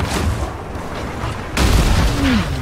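Ship cannon fire in the video game Sea of Thieves booms out in short heavy blasts amid a noisy naval battle, with a second louder volley hitting partway through.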